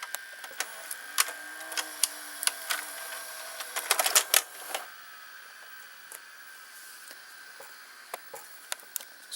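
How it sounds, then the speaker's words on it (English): A Panasonic NV-SD300 multi-system VCR with a K mechanism ejects a VHS tape: quiet mechanical clicks, a brief whirring motor and a cluster of louder clunks midway, then sparse ticks, all fairly close with no talk. "Now we will eject this VHS tape."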